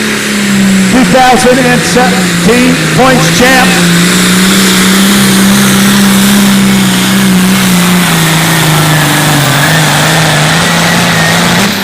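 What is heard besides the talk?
Generation 1 John Deere tractor engine revving at tractor pull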